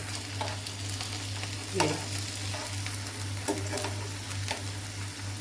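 Chicken BBQ kebabs fry in a pan with a steady sizzle, punctuated by repeated scraping and stirring clicks from a utensil over a constant low hum, with a brief word of talk.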